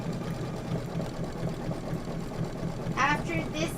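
A Kimberbell embroidery machine stitches out a quilt design, its steady rapid mechanical hum running throughout at close range, with people talking over it near the end.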